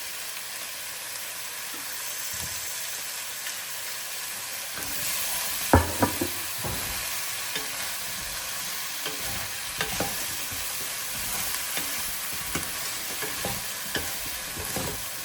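Vegetable stir fry sizzles steadily in a hot pan, a continuous bright frying hiss with a few scattered clinks and stirring knocks, close and alone with no talk.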